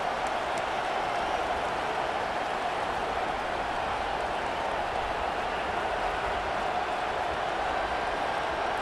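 Dense stadium crowd roar in College Football 25 during an Alabama versus Florida game, a steady, wide wash of cheering that holds at constant loudness throughout.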